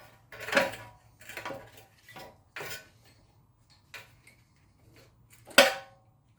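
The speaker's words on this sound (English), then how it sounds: "we can safely remove our other brake pad. So all we have to do is pull it out" An old rear brake pad is pulled off a BMW F30, with a series of separate metallic clinks and scrapes spaced out over several seconds in a quiet shop.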